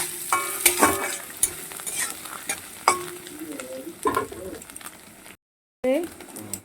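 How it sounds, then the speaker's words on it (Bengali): Grated ginger and garlic frying with onion in a pan, a sizzle under repeated sharp scrapes and knocks of a stirring spoon, with some faint background voice and bird coos. "আদাটাকে ভালো করে ভেজে নেবে"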